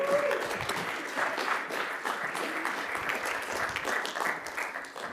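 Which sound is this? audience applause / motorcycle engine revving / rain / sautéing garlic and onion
audience applause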